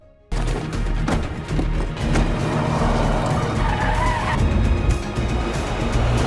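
A car drives along a rural road in a heist film scene, a continuous loud engine roar with tire noise and scattered sharp impacts over a dense, busy soundtrack.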